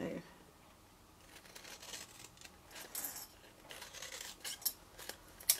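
Scissors snip a small wedge out of paper while crafting a festive gift box, giving a run of quiet, irregular crisp cuts and rustles that grow sharper toward the end.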